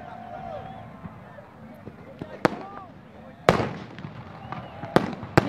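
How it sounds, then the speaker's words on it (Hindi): Fireworks bursting over Minar-e-Pakistan on Pakistan Day, sharp cracks and booms scattered irregularly, loudest clusters in the second half, over a crowd's murmur and whistling rocket trails. "मीनार पाकिस्तान से आतिशबाजी के मनाजिर हम आपको दिखाएंगे"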